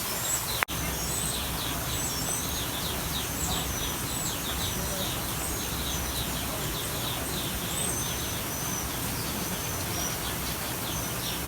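Many small birds chirp and tweet continuously in an aviary at Animal Kingdom, layered over a steady wash of rain or background noise, with no single call standing out.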